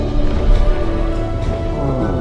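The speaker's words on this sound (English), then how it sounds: "it's the earth-shaking stomp of a Brontosaurus" A heavy Brontosaurus stomp from the Prehistoric Kingdom video game gives a deep, rumbling, sustained low roar. It is loud and thunder-like, spreads across the whole stretch with no clear separate impacts, and no voices are heard.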